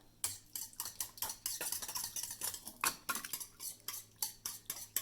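Water and cornstarch stirred together in a bowl to make snow paint, a quick rhythmic series of spoon clinks and scrapes against the bowl, close and moderately quiet.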